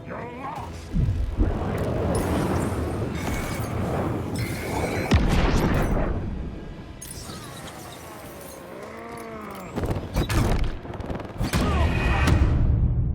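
Repeated booming rocket explosions and crashing blasts from Alan Wake 2 combat overlap one another, with a voice speaking in between.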